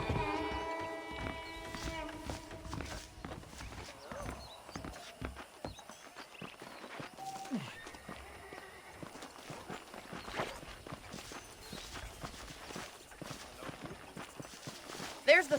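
Horse hooves clip-clopping in the Red Dead Redemption video game, a steady walking rhythm of fairly quiet hoofbeats under game music and spoken dialogue.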